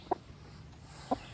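Two short clucks from a chicken on a muddy farm patch, spaced about a second apart with a third starting at the end, fairly close over a quiet background.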